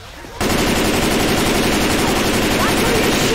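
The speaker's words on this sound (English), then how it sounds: "Why are you shooting?" Video-game gunfire from Left 4 Dead 2 erupts suddenly into a loud, continuous machine-gun-like stream of shots that holds unbroken to the end.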